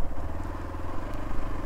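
A motorbike rides a dirt track in a small wildlife sanctuary near Pune, its engine a steady, close, throbbing drone with crackles and rattles from the rough ground and no talk over it.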